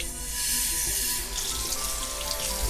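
Tap water runs into a sink while a blackhead-cleansing face wash is mixed, a soft hissing and splashing flow that holds steady for a couple of seconds at close range, with no talking.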